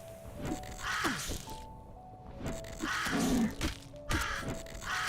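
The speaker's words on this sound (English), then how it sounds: "Bird jump scare." Bird cawing as a jump scare in a video game, a few harsh crow-like caws in quick bursts with cracking, thwacking effects between them, moderately loud.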